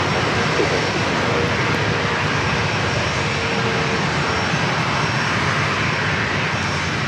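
An airliner takes off from runway 27 at San Diego airport, its engines giving a loud, steady roar that fills the whole stretch without a break.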